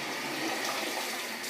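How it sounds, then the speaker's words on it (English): Hot tap water for a home-brew beer kit pours steadily into a container, a close, even rush of water with no voices. "just hot water out the tap."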